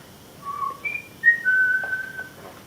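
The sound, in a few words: family signal whistle imitated by speaker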